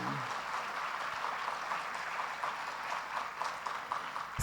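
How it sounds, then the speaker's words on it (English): Applause from a diaspora conference audience in Jamaica for young people, steady and continuous clapping heard at a distance and fairly faint, without voices over it. "I'm going to ask you all to really give them a big round of applause and encourage them."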